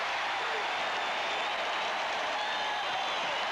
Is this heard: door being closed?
no